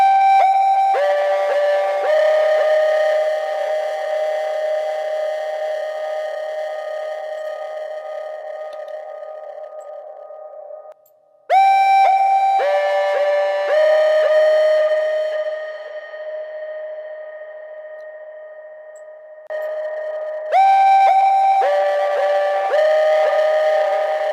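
Sustained tonal notes with rich harmonics pass through the Camel Crusher distortion and compression plugin. They sound in three loud held phrases separated by brief drops to near silence.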